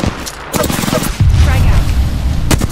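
A grenade in a first-person shooter video game thrown and blowing up amid a firefight: loud bursts of gunfire, then a heavy booming explosion that rumbles on, followed by more sharp shots, close and dense.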